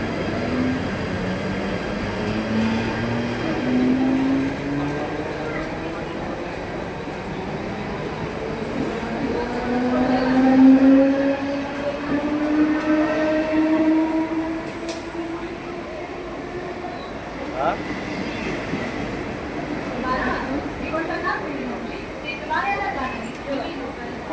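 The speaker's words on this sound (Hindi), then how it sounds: "वहाँ से शुरू ट्रेन चल रही है।" A long Mumbai local train runs along the tracks, a steady rumbling roll with shifting tonal whines from the wheels and motors, close and continuous throughout, with voices faintly underneath.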